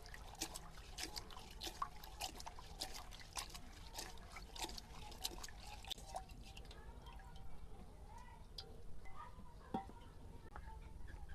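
Chopped watermelon rind is rinsed with water: soft, close drips and trickling splashes repeat irregularly, fairly faint, with a light murmur of background sound.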